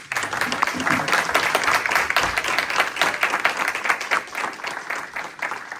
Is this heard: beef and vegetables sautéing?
no